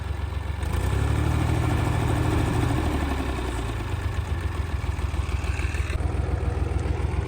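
A tractor engine runs steadily while the tractor drives along a field where cabbage seedlings are being planted, a loud continuous low rumble with a slight drop in tone partway through.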